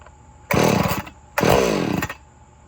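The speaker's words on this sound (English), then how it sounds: "you give it a quick yank until it fires, just like a Ryobi, and push the choke in" A gas chainsaw fires up after a pull start: two loud, close bursts of engine roar, each about half a second to three-quarters of a second long, separated by a short quiet gap.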